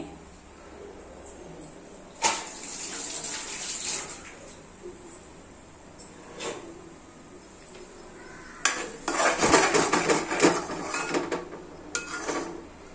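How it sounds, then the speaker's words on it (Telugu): A spoon scrapes and knocks against a bowl as a mango pulp mixture is stirred over a medium flame, with intermittent clatters and a busier burst of scraping near the end. "హై ఫ్లేమ్ కాకుండా మరి లో ఫ్లేమ్లో పెట్టకుండా కొంచెం మీడియం ఫ్లేమ్లో పెట్టి కలుపుతూ ఉండాలండి"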